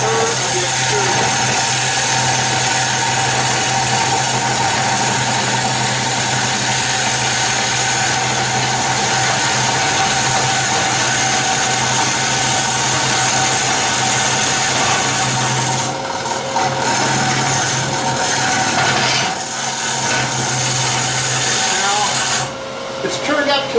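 A wood lathe spins at 1150 RPM while a piece is hollowed, a loud, steady droning hum with light tool contact, and a voice talks over it.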